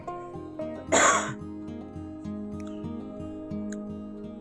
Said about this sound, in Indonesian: tadi agak batuk